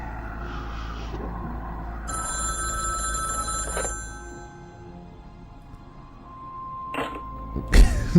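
A telephone rings in the video game The Dream Machine, a few short bell-like tones sounding over a low steady hum, with faint clicks and a louder knock near the end and no speech.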